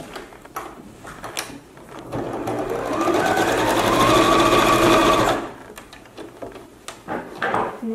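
A sewing machine stitches one last seam to join a handmade craft piece, running steadily for about three seconds with a rising mechanical whir, framed by quieter handling and rustling of fabric before and after.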